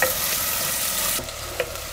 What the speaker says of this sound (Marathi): आपण कांदा आहे ना पूर्ण असं लालसर होईपर्यंत आपल्याला कांदा आहे ना हे तेलामध्ये परतून घ्यायचं